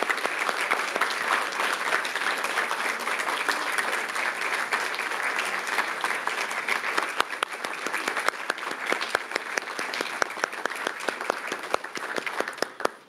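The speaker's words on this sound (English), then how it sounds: "One more round of applause for our retirees." An audience at a school district legislative meeting gives a long, steady round of applause for retirees, with dense clapping filling the room for the whole stretch.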